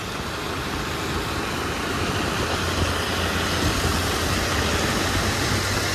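A Bajaj Discover motorcycle runs at night in a narrow lane during a Ganesh festival outing. Its steady low engine drone sits under loud, broad street noise, with no talking.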